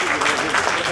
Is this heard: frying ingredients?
no